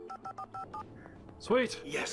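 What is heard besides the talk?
phone ringing in the video game Alan Wake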